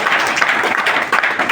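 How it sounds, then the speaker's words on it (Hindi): An audience at a seminar in Doha, Qatar gives loud, dense applause, a steady wash of many hands clapping with no talk over it. "जोरदार ताली आप लोगों को।"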